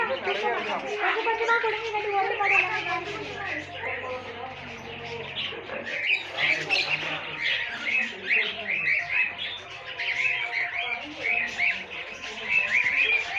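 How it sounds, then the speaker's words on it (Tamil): Cockatoos and other birds in an aviary cage at Fundera Park, Yelagiri, chirp, coo and call repeatedly around a person who talks throughout, the bird calls close and frequent beneath the voice. "இந்த இடத்துல பார்த்தீங்கன்னு வச்சுக்கோங்களேன், காக்கட்டூஸ்."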